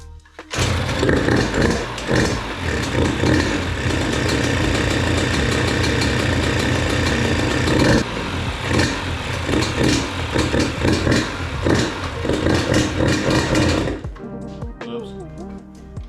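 A childhood dirt bike, freshly revived after a carburetor cleaning, starts up and idles loudly with a steady rattling engine note and a few revs before cutting off, with some talk underneath.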